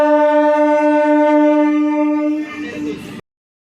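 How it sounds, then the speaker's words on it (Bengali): Sealdah–Namkhana local train standing at a station platform sounds a loud, steady horn for about two and a half seconds, followed by a brief rumbling burst of rail noise before cutting off. "এ হচ্ছে শিয়ালদা নামখানা লোকাল"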